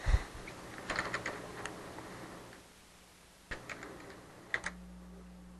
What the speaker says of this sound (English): I start typing something in.